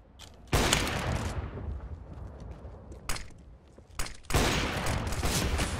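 Loud gunfire rings out in a third-person shooter match during a no-scope shot. Several sharp close bursts arrive with rumbling tails, and a final heavy blast sustains to the end.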